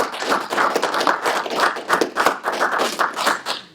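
A small group claps for the youngest and oldest Seabees at a Navy ball, giving a close, uneven round of hand claps that holds steady for several seconds before thinning out.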